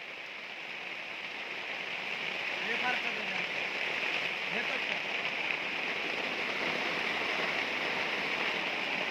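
Continuous rushing water roars steadily at close range, a strong river current pouring through a broken embankment, with faint voices mixed beneath it.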